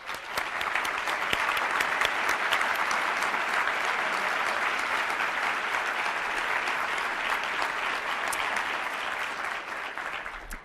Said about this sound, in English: So if I could ask the CDOT team members here today to please stand for a round of applause.